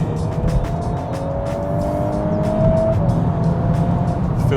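A VW Golf R Mk8 fitted with a RaceChip tuning module running its highest-output map accelerates hard, engine note rising steadily through the revs with a sharp shift near the end over loud road and tyre noise.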